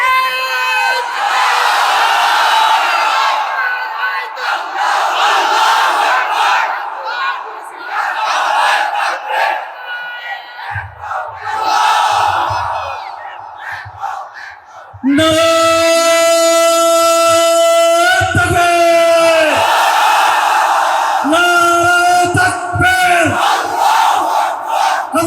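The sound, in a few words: crowd shouting the takbir chant at a sermon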